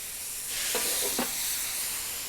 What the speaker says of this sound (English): It steams, the cheese melts.